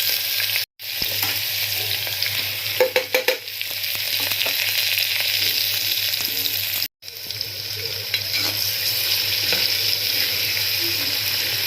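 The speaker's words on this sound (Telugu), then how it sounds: "తర్వాత దీంట్లో చిన్నగా కట్ చేసి పెట్టుకున్న పచ్చిమిర్చి ఆనియన్స్ కూడా వేసేసుకోవాలి" Chopped green chillies and onions frying in a pan for tomato rice, a strong, continuous sizzle with stirring scrapes, broken by two short silent gaps, with no voices.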